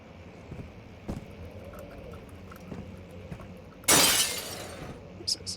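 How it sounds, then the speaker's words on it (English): Glass shattering in the horror game Amnesia: The Dark Descent, a single loud bright crash with a short tinkling tail, set against quiet ambience with a few faint knocks before it. "there's glass to break."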